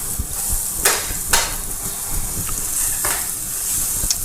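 King prawns sizzling in a frying pan, a steady close hiss broken by sharp scraping and clanging as the pan is stirred and moved.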